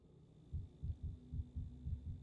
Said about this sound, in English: Okay, heartbeat is crazy.